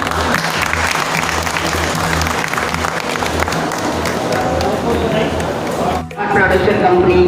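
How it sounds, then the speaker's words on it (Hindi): At an award ceremony for a farmer producer organisation, the audience breaks into loud, sustained applause mixed with crowd chatter and a rhythmic low thump beneath, and the clapping dips briefly before picking up again. "तालियां बजाइए आपकी।"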